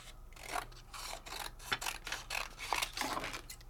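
Scissors trimming paper for a handmade card, a quiet close series of short rasping snips and rubs in an irregular rhythm, with no talking.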